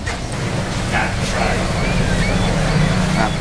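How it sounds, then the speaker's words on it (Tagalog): Niagara Falls roars as a steady, dense wash of falling water, loud and constant throughout, with faint voices now and then over the rumble. "Yan ulit ang falls."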